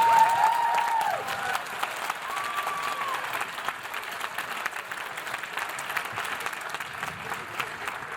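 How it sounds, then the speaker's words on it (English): Audience applause at a holiday concert, a broad burst of clapping that starts full and gradually thins out, with brief whoops early on. "Let's give them one more round of applause."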